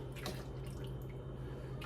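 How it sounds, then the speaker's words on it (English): A sauce scoop rinsed out in sink water, a faint, close trickle and slosh with a few small drips, heard alone. "I kind of rinse it out in the water."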